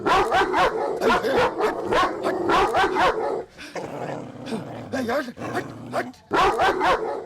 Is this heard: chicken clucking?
no